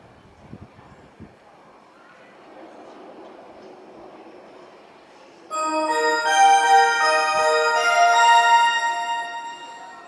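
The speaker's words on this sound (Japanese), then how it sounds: "1番線の電車は急行北千住行きです。" A Tokyo Metro 08 series express bound for Kita-Senju pulls into Shin-Koshigaya station on the Tobu Isesaki Line. Quiet platform ambience gives way to a loud, sustained whine of rising tones as the train arrives.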